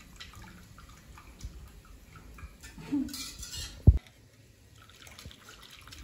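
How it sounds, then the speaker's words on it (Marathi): A whisk works dal in a pot at home, giving soft, sparse scrapes and clinks with one sharp metallic clank near the end, then quiet. No one speaks. "जरा डाळ फेटून घे"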